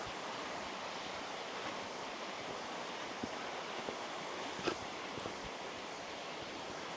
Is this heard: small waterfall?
yes